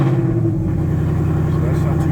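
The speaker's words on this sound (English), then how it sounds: "let's start her up. And let's see how this new exhaust sounds" A Ford Mustang fitted with a new exhaust idles after a cold start, giving a close, steady low rumble with a deep throb, under a voice talking over it.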